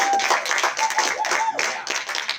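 Meeting attendees at a student government legislative session clap together, a dense patter of hands with a few louder claps, over a faint murmur of voices and a brief whistle-like tone.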